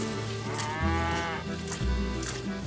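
A cow on a farm in Futrono, Chile, moos loudly and close by, two long low bellowing calls in succession.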